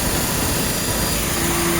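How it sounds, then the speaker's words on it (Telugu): A used vehicle's engine, fitted with an LPG kit but currently running on petrol, idles in a loud, steady, unbroken drone close by, with no voices. "ఇంకో ఇంజన్ సౌండ్ కూడా మీరు చూడవచ్చు."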